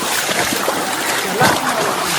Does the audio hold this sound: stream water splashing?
yes